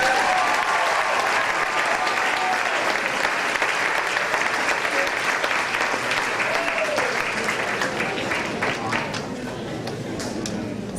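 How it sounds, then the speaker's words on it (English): Sustained applause fills a school graduation ceremony as an award winner is honored, a thick, steady crowd clapping with a few voices and cheers mixed in, easing slightly near the end. "Let's give him one more round of applause."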